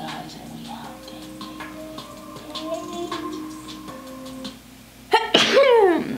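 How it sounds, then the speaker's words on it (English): A single loud sneeze bursts out near the end, following a stretch of quiet music with steady ticking tones underneath. "we ended it with a sneeze"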